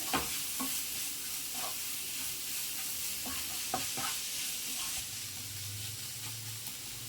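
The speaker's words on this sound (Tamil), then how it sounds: "நம்ம போட்ட மசாலாலாம் ஒன்றா சேர்த்து மிக்ஸ் பண்ணி விட்டுருங்க" Masala being stirred in an oily pan with shallots, curry leaves, ginger and garlic for a raw banana fry, a continuous soft sizzle broken by occasional scrapes of the spoon, close and steady, no talk.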